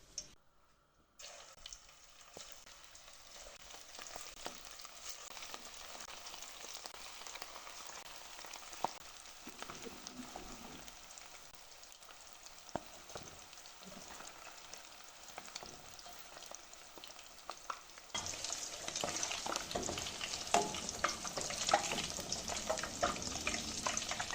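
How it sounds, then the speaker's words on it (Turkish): İzmir köfte meatballs fry in a pan, a steady broadband sizzle running throughout that grows louder and denser toward the end, with no talking. "Şimdi en son olarak köftelerini kızartmaya başlayacağım."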